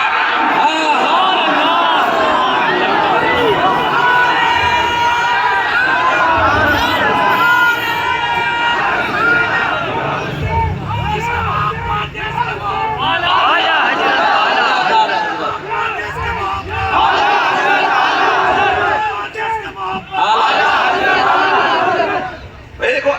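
Large crowd shouting religious slogans in unison during a sermon gathering, loud and close, sustained massed voices swelling and dipping in waves with a brief lull near the end.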